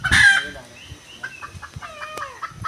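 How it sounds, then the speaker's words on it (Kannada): Jungle fowl at a zoo enclosure in Binkadakatti, Gadag, give a loud opening call followed by a series of short clucks and soft chirping notes, close by with little other noise. "ಇಲ್ಲಿ ಕಾಡು ಕೋಳಿ ಹುಂಜ ಎರಡು ಅದ ನೋಡ್ರಿ"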